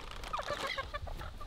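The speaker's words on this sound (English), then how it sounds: "Look at all these chickens." Chickens cluck softly in a rapid, uneven run of short calls, somewhat distant and low in level, at a farmyard in Jamaica.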